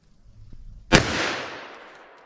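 A single .357 SIG hard-cast round fired into a ballistic test medium, one sharp, loud report followed by a long ringing decay.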